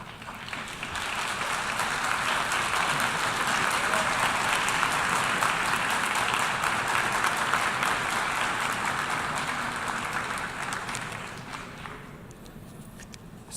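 Sustained crowd applause at a speech by Honduran president Juan Orlando Hernández swells quickly, holds as dense clapping for about ten seconds, then thins and fades near the end.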